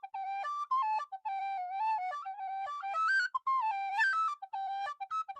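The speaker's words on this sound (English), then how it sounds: "It's a whistle, um, a tin whistle, because I used to play a lot of Irish music." A handmade tin whistle plays a lively Irish tune, clear solo notes moving in quick stepwise phrases with short breaths between them, close and unaccompanied.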